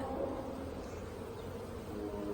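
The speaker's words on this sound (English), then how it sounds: "Just gonna gently blow on these bees." Honey bees at a hive frame give off a steady, low, continuous buzz, fairly close and quiet, with no talk over it.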